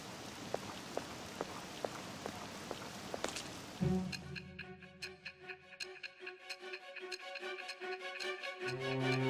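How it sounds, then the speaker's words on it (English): Steady rain patters for a few seconds with scattered drop ticks in the video game Persona 5 Royal, then gives way to a soft, chiming music loop that carries on to the end. "This rain ain't too bad."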